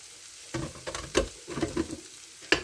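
Gravy bubbles and pops softly in a pan, with a few louder spoon scrapes and clinks against the metal.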